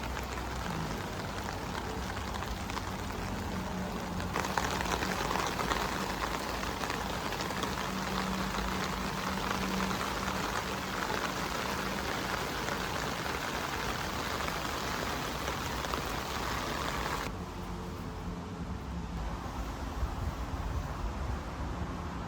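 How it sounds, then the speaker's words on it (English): Heavy rain drumming on a Nemo Aurora 2 tent makes a loud, dense, steady hiss with no pauses, easing slightly toward the end. "So next, I put it through a heavy rain test."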